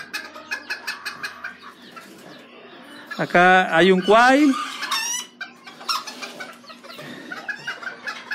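Roosters and hens cluck and crow nearby at a breeding farm, with a loud crowing burst in the middle while someone talks in Spanish over the birds.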